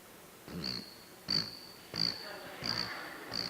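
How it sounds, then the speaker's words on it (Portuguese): A cricket chirps in five short, evenly spaced bursts about two-thirds of a second apart, standing clearly above a quiet room background. "Só o grilo."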